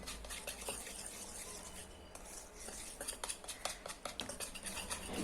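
Egg-based batter stirred slowly in a bowl with a utensil, a soft continuous scraping and swishing with light clinks against the sides, growing more rhythmic toward the end.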